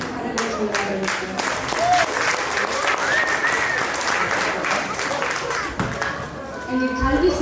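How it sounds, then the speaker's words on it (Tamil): Audience applause at a Thai Pongal festival held by a Tamil school in Nottingham, dense steady clapping from a crowd lasting several seconds, with some voices mixed in. "எங்கே எங்கள் கரகோஷம்"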